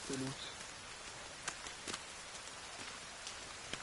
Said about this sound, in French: Ouvrir, il pleut.